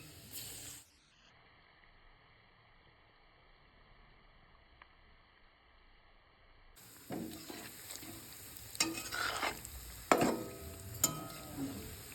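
Sesame laddu balls fry in hot oil in a wok. The sizzle starts after a long stretch of near-silence with a faint hum and builds to a louder, crackling bubbling with scattered pops, close by and without talk.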